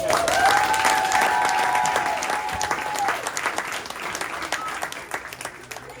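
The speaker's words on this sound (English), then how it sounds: "can we get one more round of applause?" Applause from an audience at a Brooklyn youth company performance fills the clip, a loud, dense clapping that slowly thins toward the end, with faint tonal traces over it.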